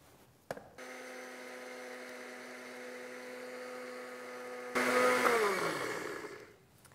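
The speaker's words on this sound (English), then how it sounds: "we're going to make a little bit of noise here as we grind this up" A bullet blender grinds herbs for an infused oil, a steady close motor whine with strong tonal hum running several seconds, then a louder rougher surge near the end as the load shifts before the motor winds down.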